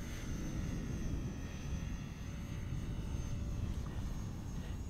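An RC P-51D Mustang model plane with a coarse prop in flight, its electric motor giving a steady whining drone with a faint high tone, moderately distant and continuous.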